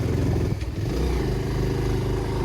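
Steady, close motorcycle engine drone while riding on a cloudy, rain-threatening day, with a constant low rumble and slight rise in revs and a brief rattle early on.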